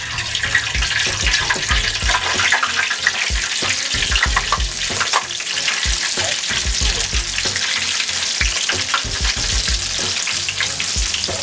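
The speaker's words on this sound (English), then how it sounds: "I'm gonna drop in another batch." A batch of popcorn chicken deep frying in a fryer: dense, steady bubbling and crackling sizzle, loud and close, with small pops scattered throughout and no voices.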